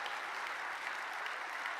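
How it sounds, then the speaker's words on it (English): Applause from an audience at a motivational speaker's event, a continuous, even wash of many hands clapping, quiet and distant. "Give yourselves a round of applause."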